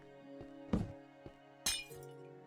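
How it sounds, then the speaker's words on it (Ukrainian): Glass breaking in the Granny Minecraft mod: two short, crisp clinking shatter bursts land about a second apart over a quiet game backdrop with a low, steady musical hum. "скло розбило, прикольно"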